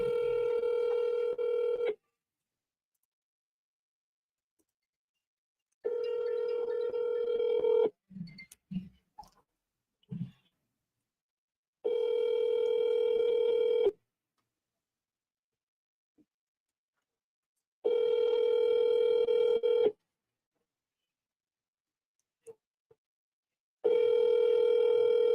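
A phone call being placed: repeated tone bursts about two seconds long sound at a steady interval from a handset, with brief faint clicks and handling noise between them and no talk.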